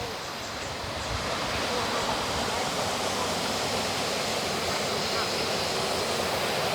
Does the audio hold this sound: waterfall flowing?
yes